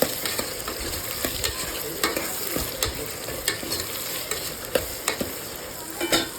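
Onions and tomatoes fry quietly in a pan over low flame, a soft sizzle punctuated by regular sharp scrapes and taps of a spoon stirring against the pan.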